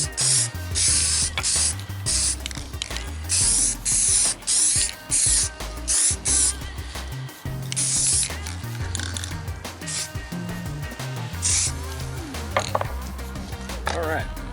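Clear coat hisses from an aerosol can onto a resin combat knife, loud and close in repeated bursts of a second or so with brief gaps, alongside some handling noise.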